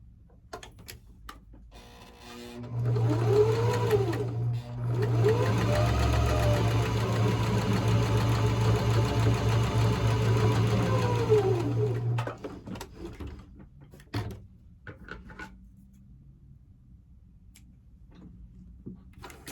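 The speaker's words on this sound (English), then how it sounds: "So we're gonna sew it." Sewing machine stitching a quilt block, a steady mechanical hum with a rapid rhythmic tick running for about nine seconds with a brief pause, then quieter handling sounds.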